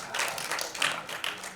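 A celebrity event audience breaks into clapping, a short burst of mixed hand claps at moderate distance with no voices over it.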